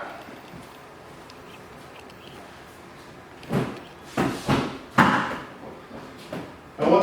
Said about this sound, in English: we're going to walk around, we're going to open up all 4 doors